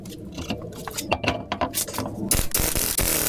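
Plastic parts clicking into place on a Land Rover coolant reservoir during a leak repair, a close series of sharp irregular clicks and snaps with a louder cluster of clicks near the end, no talking.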